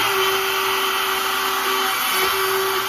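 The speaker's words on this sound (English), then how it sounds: "That should give us a nice countersink hole over that one." Power drill plunging a countersink hole into wood while building a wedgie sled for woodturning, a loud steady close-up whine that holds without a break, with no talking.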